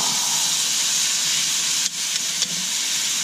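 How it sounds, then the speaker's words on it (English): Smoked club steak dropped butter side down onto a griddle at about 475 to 500 degrees, a loud steady close sizzle and hiss that runs throughout, with a couple of brief dips. "grab your steak that's been smoked, butter side down, drop it on that griddle. Listen to that sizzle!"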